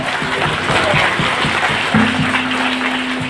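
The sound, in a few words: applause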